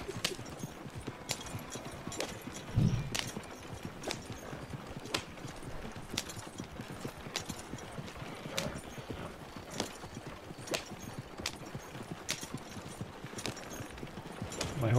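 Steady clip-clop of cart horse hooves in a wagon video game, a continuous rhythmic trot with sharp regular impacts over a rumbling wheel background, fairly distant and even in level.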